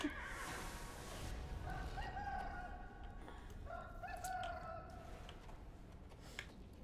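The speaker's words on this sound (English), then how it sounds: "Chicken!" A rooster crows twice and a chicken clucks in the video game Neverwinter, with outdoor ambience and a faint background hum.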